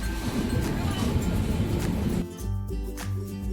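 A train pulls out of Raiganj station through fog: a steady, loud broadband rumble of running gear that drops into a deeper, lower churning roar, heard from on board with faint voices mixed in.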